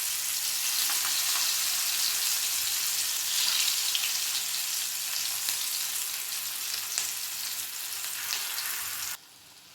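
Curry leaves frying in oil on a dosa griddle, a loud, dense, continuous sizzle with crackling pops throughout that cuts off abruptly near the end.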